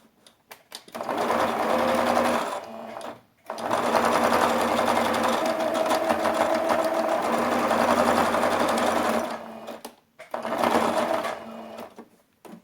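Domestic sewing machine stitching a fabric toiletry bag, running in three steady mechanical bursts with short pauses between, close and fairly loud, with no talking.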